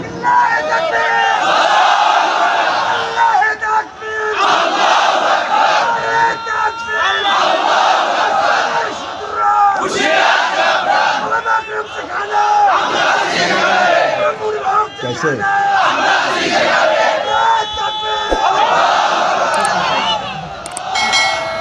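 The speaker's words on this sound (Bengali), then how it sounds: "আপনাদের মধ্যে একজন দাঁড়ায় লিল্লাহি তাকবীর দেন" A large crowd at an open-air Islamic religious gathering roars takbir chants in unison, loud and sustained, with repeated swelling shouts of voices and rough crowd babble between calls.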